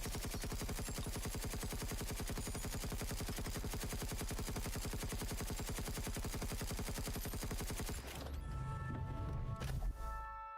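A weapon in Space Engineers 2 fires a long, rapid, evenly spaced automatic stream for about eight seconds. The fire is loud and dense, then cuts off into a low mechanical hum with faint tones.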